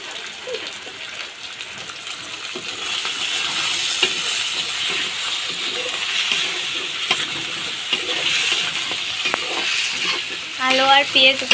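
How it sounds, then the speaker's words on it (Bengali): Potatoes and onions frying in a pan, with a steady close sizzle and occasional stirring scrapes throughout; a voice speaks briefly near the end. "আলুগুলো দিয়ে দেব, আলুগুলো ভাজা ভাজা করে নেব"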